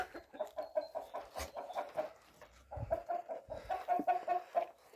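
Several turkeys cluck and gobble in quick, uneven bursts close by, a busy farmyard chatter with no talking.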